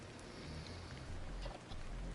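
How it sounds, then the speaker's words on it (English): Rain falling in the game Stellar Blade, a steady, close patter of drops with low rumbling underneath, even and unbroken for about two seconds. "This must be Earth's rain."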